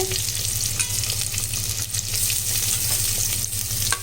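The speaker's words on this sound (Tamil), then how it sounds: "இந்த எண்ணெயிலே நல்லா வதங்கணும் இந்த வெங்காயம்" Chopped onions and curry leaves sauté in oil in a clay pot for fish curry, giving a steady, close crackling sizzle with light stirring scrapes throughout.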